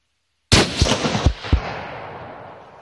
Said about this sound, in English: I'm just going to shoot.